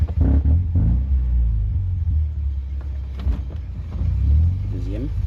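A Mercedes W202 C220 rolls along in first gear with a steady low engine rumble throughout, while someone talks over it.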